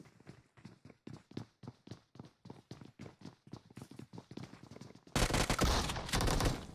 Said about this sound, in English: Oh, and that shotgun once again. It's too good.